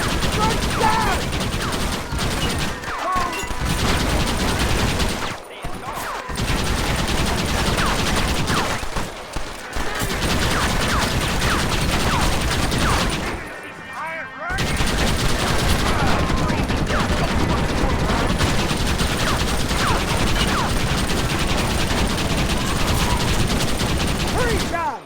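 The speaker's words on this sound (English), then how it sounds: "Why are they all shooting at me?" Continuous rapid gunfire from many shooters in the Western video game Red Dead Redemption, loud dense volleys with a couple of brief pauses and some mechanical clatter, under occasional in-game voices.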